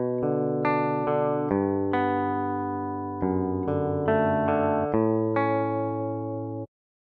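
A dry, unprocessed sampled guitar from a Kontakt library plays a looped phrase of ringing chords and single notes in a steady pattern, clean and close, cutting off abruptly near the end.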